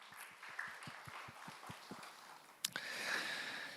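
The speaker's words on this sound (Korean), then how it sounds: "영광 박수 올려드립니다." A church congregation at a youth service claps in applause, a sparse patter of separate claps that swells into a denser, continuous burst near the end, heard at moderate distance in a reverberant hall.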